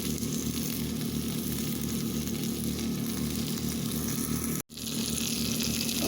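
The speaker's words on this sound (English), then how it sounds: "I'll fry them for a little while, and then I'll add the onions." Potatoes frying with onions in a pan over an open campfire, a steady close crackling sizzle that runs on continuously, with a brief cutout near the end before the sizzle resumes.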